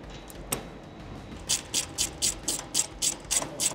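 A hand ratchet tightens nuts on an A320 aircraft wheel in a hangar, giving a steady run of about ten close, crisp clicking bursts in an even rhythm after a quiet start.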